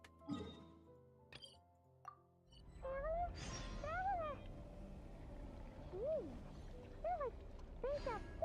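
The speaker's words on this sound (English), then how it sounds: "There's that kitty over there." Cat meowing in the Genshin Impact game, several rising-falling meows spaced over a few seconds after some clinks, set against a steady game ambience.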